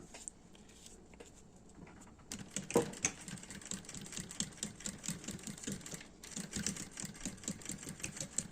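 A sewing machine stitches a lining close to the fabric edge. After a brief quiet start, a soft, rapid run of mechanical clicking sets in and continues in quick bursts, with one short pause partway through.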